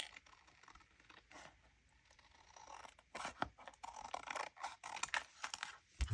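Scissors cutting around a paper scrapbook template, heard as quiet, close snips and crisp paper rustles that grow busier toward the end.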